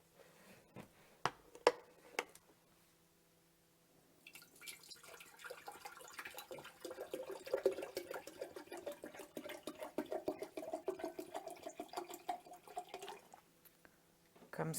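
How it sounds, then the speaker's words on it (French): Water poured into a large glass jar, a steady splashing and trickling stream that runs for several seconds after a few sharp clinks and taps, close and fairly quiet. "Je vais prendre plutôt celui-là, il est plus grand, le bocal. Hop, on va mettre de l'eau."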